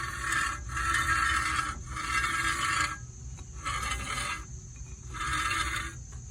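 Harsh scraping of a car's brake dust shield rubbing against the rotor while driving, in four steady bursts with short quieter gaps between, over a low rumbling drone.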